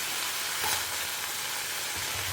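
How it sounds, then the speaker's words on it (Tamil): Cluster beans with salt and grated coconut sizzle steadily in a pan, a continuous close frying hiss with faint stirring scrapes, no talking. "ஒரு ரெண்டு மூணு நிமிஷம் நல்லா வதக்கிக்கோங்க"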